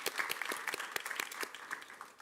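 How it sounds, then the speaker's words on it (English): Audience applause at a school board meeting, a short burst of scattered hand claps from a small group, fairly faint and distant, with individual claps standing out. "Give them another round of applause"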